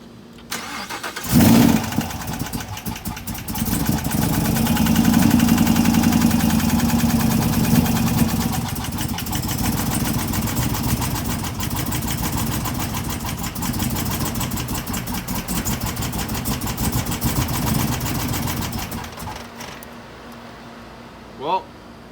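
A 2016 Camaro engine with a cracked valve spring runs steadily at idle while coil wires are pulled one cylinder at a time. It gives a close, continuous rough hum, a little louder early on, with voices at times.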